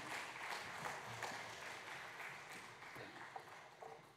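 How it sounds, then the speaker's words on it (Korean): Faint, steady applause from a church congregation fills the whole stretch, a soft continuous patter of many hands at some distance. "들어가는 우리 청년들에게 박수 한번 다시 계속 부탁드립니다."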